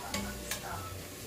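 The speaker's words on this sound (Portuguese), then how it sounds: "que agonia de ver raspando a colher na panela" A spoon stirs and scrapes in a pan while onions or other food sauté, with two sharp scraping strokes over soft, steady sizzling at low volume.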